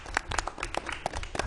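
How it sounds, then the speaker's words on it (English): A brief round of applause at a school board meeting, scattered clapping from the room mixed with a few voices, moderately loud and close. "can we get another round of applause for"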